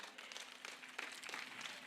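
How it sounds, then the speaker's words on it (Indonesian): Audience applause at an Islamic boarding school media organization's leadership handover evening, a dense, fairly faint wash of clapping lasting under two seconds. "Beri tepuk tangan kepada beliau."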